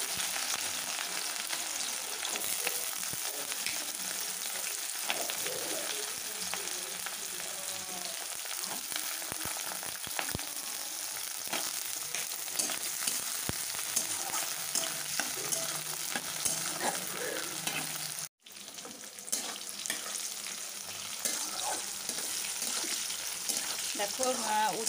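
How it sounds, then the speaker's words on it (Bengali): Bitter gourd pieces fry in hot oil in a wok, giving a continuous crackling sizzle broken by scraping stir strokes, with a brief near-silent gap late on before the frying resumes. "দেখো কড়াইতে তেলটা আমি গরম করে নিয়েছি, এরপর উচ্ছেগুলো আমি ভেজে নেব।"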